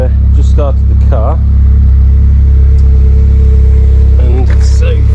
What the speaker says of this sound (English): And we've just started the car